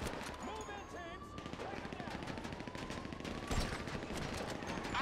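Gunfire in the Grand Theft Auto V story mission The Merryweather Heist, with dense rapid shots and bursts crackling continuously as a busy backdrop while a voice shouts over the fighting.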